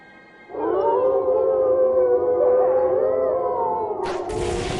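A wolf pack howls in the game Trails into Reverie, several long, wavering, overlapping howls rising and sustained for a few seconds, close and loud, with a sharp bright burst near the end.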